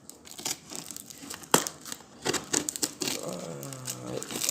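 Tape being torn from a parcel and packaging crinkled in sharp bursts, close by, with a short rising whine of stretching tape toward the end.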